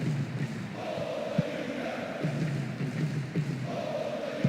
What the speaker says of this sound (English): The rhythmic chanting of the crowd.